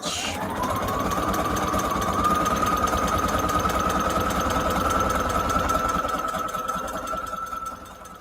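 A sewing machine runs continuously, stitching long zigzag stitches through a scrap-fabric junk journal cover, a close, steady rapid mechanical whir and clatter that slows and fades near the end.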